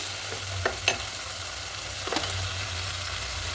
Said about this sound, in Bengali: এবার মশলাটা খুব ভালো করে একটু দু তিন মিনিট কষিয়ে নেব